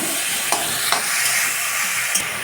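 Pumpkin stem greens fry in a pan in a steady loud sizzle, with a few soft scrapes and clicks from stirring, no talking.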